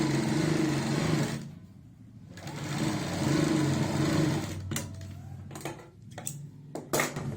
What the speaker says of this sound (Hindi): एक पैर की आधा इंच चौड़ाई वाली सिलाई लगा।